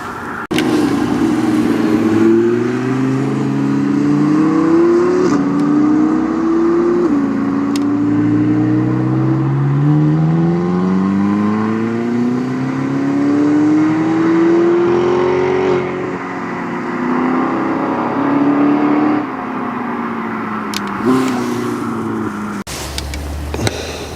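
Supercars rev high through the gears on the Curborough sprint course, engine notes climbing and dropping repeatedly as cars accelerate past, loud and continuous for the whole stretch with no talk.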